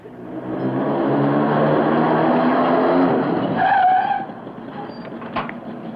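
Car pulling away and skidding on a road in Spain in a 1960s French-dubbed TV episode: a steady engine roar rising, then a short tire squeal before it fades to a low background hum.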